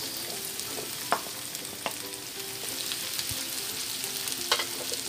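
Carrots stir-fried in a hot pan while cooking sweet and sour tilapia, giving a steady sizzle with a few sharp clinks of a utensil against the pan.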